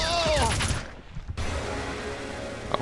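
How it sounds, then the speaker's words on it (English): Assault rifle gunfire in Red Faction: a quick burst of rapid automatic shots up front, a brief pause, then softer game ambience with a faint sharp hit near the end. "I'm a big fan of the assault rifle."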